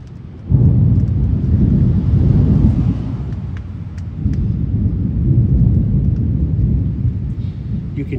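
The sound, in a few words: thunder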